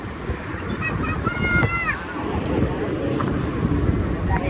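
Wind blowing by a river near a bridge, a steady broadband rush buffeting the microphone, with water lapping beneath and voices and a brief whistle-like tone over it.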